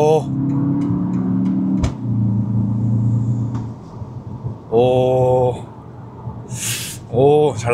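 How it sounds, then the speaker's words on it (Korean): A 2025 BMW X1 M35i driving in Sport Plus mode with stability control off, its engine droning steadily and loud, dipping briefly then rising again with sharper revving bursts, while voices speak over parts of it. "지금 스포츠 플러스 모드로 놓고 주행을 하고 있는데요."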